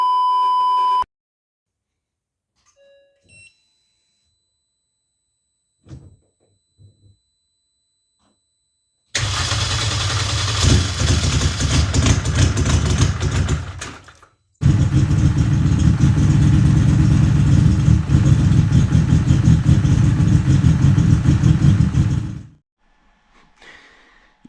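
A Mini R50 race engine opens with a short beep and scattered clicks, then cranks and fires into a loud, choppy idle that runs hard for several seconds, pauses briefly, restarts heavier and then shuts off.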